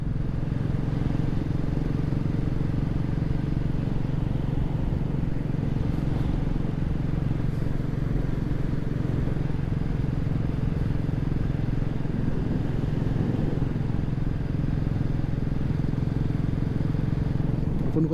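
A motorcycle rides along the open road on a cold highway trip from Hyderabad to Bengaluru, its engine and wind rumbling steadily and loudly for the whole stretch, with faint muffled talk beneath.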